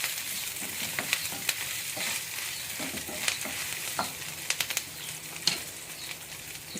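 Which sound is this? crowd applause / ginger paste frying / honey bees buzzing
ginger paste frying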